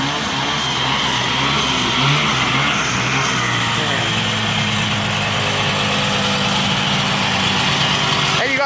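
A Ford F250 4x4 truck engine idles steadily on mud and gravel, a close, continuous low rumble that holds an even pitch throughout.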